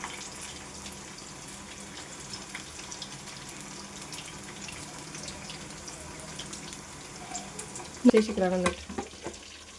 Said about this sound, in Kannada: ಇಷ್ಟನ್ನೇ ನೀಟಾಗಿ ಫ್ರೈ ಮಾಡ್ಕೊಳ್ಳೋಣ ಇವಾಗ